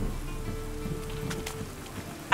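Rain falls in The Witcher 3 as a soft, steady patter under a low ambient hum, faint throughout and ending in a brief louder burst.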